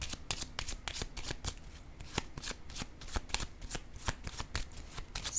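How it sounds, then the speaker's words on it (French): Tarot cards shuffled close up in a steady run of crisp riffling flicks and soft slaps, with no voices. "Je vais déposer une autre carte."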